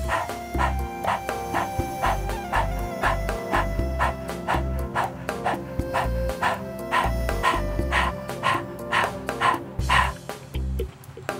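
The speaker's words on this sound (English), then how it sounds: "Then we're going to begin panting like a dog, trying to coordinate the breath with the navel." A person does rapid, rhythmic dog-like panting breaths as a yoga breathing exercise, a steady run of short, sharp, close exhalations with no speech.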